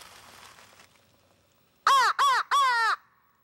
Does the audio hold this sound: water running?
no